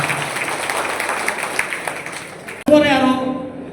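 Audience applause at an organisation's appointment ceremony in a hall, a moderate clapping wash heard under someone speaking, then an abrupt cut to a louder, closer burst of sound.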